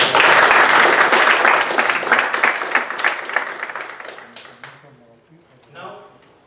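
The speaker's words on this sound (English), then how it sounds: "I request all the audience to give them a big round of applause." Audience at a speech evaluation contest applauding the panel of judges, loud dense clapping that gradually thins and fades out, followed by a brief voice at the end.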